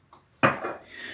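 A small scoop of Ariana & Evans Woods and Spices shaving soap goes into a blue injection-molded Timeless shave bowl, a light tap then one sharp close scrape and a softer smearing rustle, with no talking.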